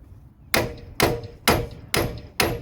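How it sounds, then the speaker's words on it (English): Five sharp metallic hammer blows ring out at a steady pace, each striking a socket extension during a transmission removal with a brief clanging decay, close and loud. "got an extension and a hammer just in case"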